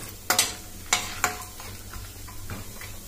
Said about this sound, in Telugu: జీడిపప్పు, శనగపప్పు ఇవన్నీ వేయించుకొని కాస్త త్వరగా వేయించుకోవాలి